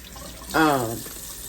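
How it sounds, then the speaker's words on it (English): Tap water runs steadily while pieces of raw liver are rinsed at a kitchen sink, with a brief tonal, voice-like sound rising over the water hiss midway. "The thing that you want to do with your liver is rinse it, because of course it's liver, so it's full of blood."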